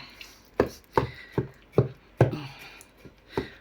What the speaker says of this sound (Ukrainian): проколюємо, наколюємо наше м'ясце, щоб маринад гарно пропитався всередину.